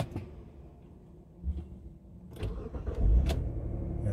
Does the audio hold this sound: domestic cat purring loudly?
no